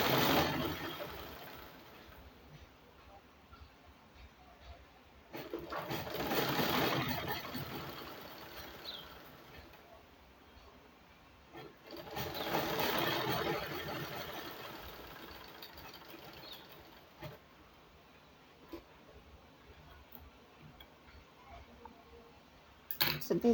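A sewing machine runs in two distinct bursts, stitching the side of a fabric hooded abaya, with quiet pauses between the runs and no talking.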